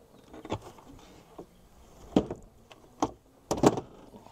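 A storage drawer in a Ford F-150 truck bed slides and thumps shut, giving a series of sharp close knocks and rattles spread over a few seconds.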